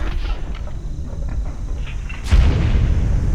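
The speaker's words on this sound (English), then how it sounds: "let's stop talking and I will launch the rocket" A rocket launches in the survival game CryoFall: a steady low rumble swells suddenly into a loud, broad roaring blast that keeps thundering without letup, no voices over it.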